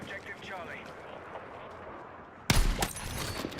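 Video game gunfire erupts as a sudden, dense burst of shots cutting through quieter background game noise, loud and close for the last second or so.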